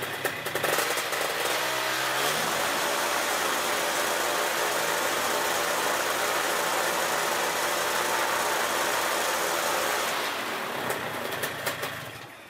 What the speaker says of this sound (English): The idle should be at 1800 RPM now.